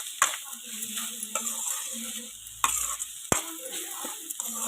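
A cabbage and carrot curry being stirred in a pan: a spoon scrapes and knocks against the metal with a few sharp clacks, over a soft, steady sizzle.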